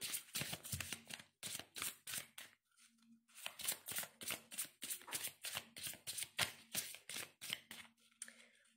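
Oracle cards being shuffled by hand in repeated quick riffling bursts, close and fairly loud, with brief pauses between rounds and no voices.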